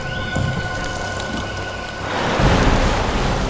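Heavy rain pours down hard in a steady hiss at night, growing louder and denser partway through, with no talk over it.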